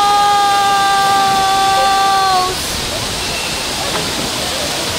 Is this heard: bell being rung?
no